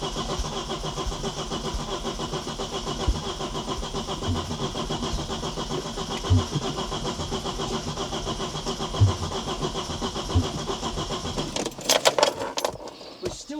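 An Audi RS2 barn find engine cranks and runs, a steady mid-pitched mechanical drone with a few knocks, ending in a burst of metallic rattle.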